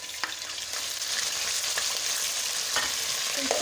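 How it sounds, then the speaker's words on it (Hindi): Gosht (meat) frying with onions in a pan, a steady, close sizzle that fills the whole stretch, with faint stirring scrapes and no voices. "ये देखिए, गोश्त हमारा इसमें फ्राई हो गया है।"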